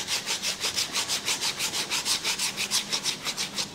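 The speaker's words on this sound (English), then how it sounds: "Now I'm going to take some sandpaper and then just clean up the edges." Sandpaper rubbed back and forth along the edges of a leather passport case makes a steady rhythmic scratching, about five strokes per second, close and fairly quiet with no voices.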